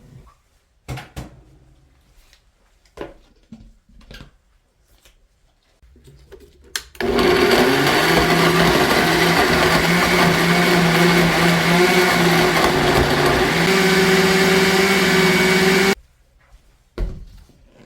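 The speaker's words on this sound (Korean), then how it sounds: "믹서에다 갈을 때 물을 조금 넣으면 잘 갈아져요." A blender grinds pear with a little water, whirring loudly and steadily for about nine seconds, starting and stopping abruptly, with quiet kitchen clatter before and after.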